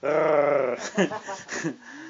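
A voice imitates a growling dog with a low, rough, sustained growl, then breaks into a few short snarling, yelping bursts, loud and close with no other sound around it.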